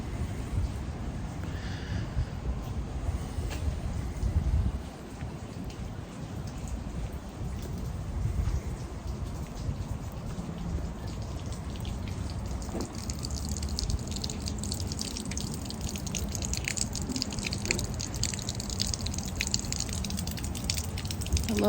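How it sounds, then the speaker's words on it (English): Water pours steadily from a pipe and drips, a continuous gushing splash with scattered droplet hits, heard close and alone for a long stretch. "I love the sound of this pipe pissing right here."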